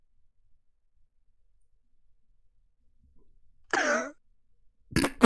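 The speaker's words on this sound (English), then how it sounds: "That cough sounded so purposeful." A single short cough rings out after several seconds of near silence, followed by another brief burst at the very end; close and moderately loud against a quiet background.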